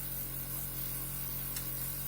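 A quiet, steady hiss of air spraying from a makeup airbrush, continuous and even throughout with no voices.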